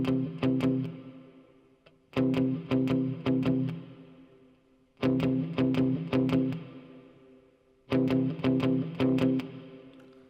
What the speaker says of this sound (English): So for the intro, we play this pulsing rhythm,